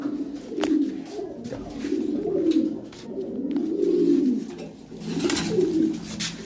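White Bombay pigeons coo in a steady series of soft, rolling phrases close by, repeating every second or so, with light rustling and a few clicks in the background.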